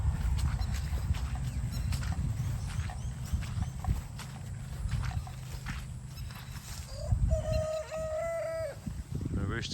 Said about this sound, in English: The rooster's found its voice, as you can hear.